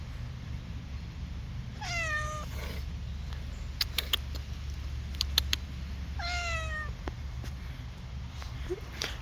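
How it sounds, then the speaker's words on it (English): Outdoors on a nature walk, a cat gives two faint, short meows several seconds apart over a steady low rumble of wind and ambient noise, with a few small clicks in between. "We got the cat with us."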